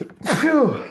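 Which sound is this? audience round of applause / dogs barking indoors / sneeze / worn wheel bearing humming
sneeze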